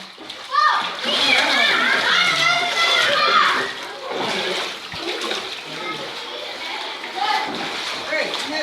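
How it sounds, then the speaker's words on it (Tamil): Children splash and play in floodwater on a flooded street in Saidapet, Chennai, with steady nearby sloshing and splatter under their excited chatter and shouts. "தண்ணியில் விளையாடாதீங்க."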